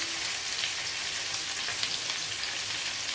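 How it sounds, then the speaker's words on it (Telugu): Steady, bright sizzling of green chillies and potato frying in ghee for jeera rice, continuous and close with no talking. "ఇవి నెయ్యిలో వేగుతాయి కదా, చాలా టేస్ట్ ఉంటుంది అన్నమాట"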